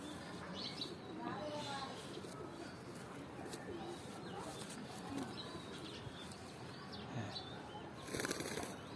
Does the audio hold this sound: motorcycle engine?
no